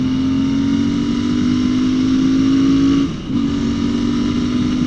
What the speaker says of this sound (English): So I'm revving it all the way out here